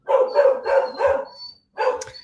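Dogs bark in a quick series of four close, loud barks, then a short pause and one more bark, with no talking over them.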